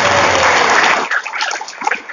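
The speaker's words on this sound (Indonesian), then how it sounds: "Tepuk tangan untuk kita" An audience at an Islamic lecture claps in a dense burst for about a second, then the applause thins to scattered, fading claps.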